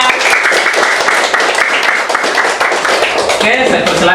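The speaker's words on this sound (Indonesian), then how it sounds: "Tepuk tangan semuanya." A group claps together in a classroom during a teaching performance session, a steady, close burst of applause lasting several seconds with voices mixed in.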